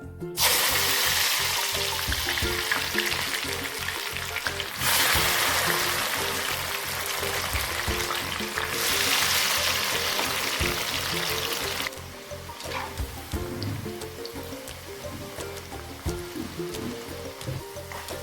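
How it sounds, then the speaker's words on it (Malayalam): Salted jackfruit pieces fry in hot oil for chakka chips, a loud, steady, dense sizzle and bubbling that carries on throughout and eases slightly toward the end. "ഈ ചക്ക ഉപ്പ് പുരട്ടിയ ചക്ക എണ്ണയിലേക്ക് ചേർത്ത് കൊടുക്കാം"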